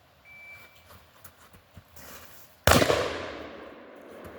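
A single loud gunshot at a shooting range, alone and close, with a sharp crack and a long decaying echo, preceded by quiet outdoor ambience and faint shuffling.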